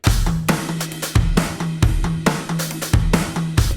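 Split-hand groove played on a full drum kit, with punchy kick and snare hits roughly every 0.6 seconds beneath busy hi-hat and cymbal strokes, loud and close, with no voices.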